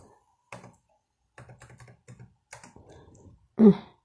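Computer keyboard typing and clicking in bursts of quick keystrokes, close and fairly quiet, with gaps between runs and a louder clack near the end.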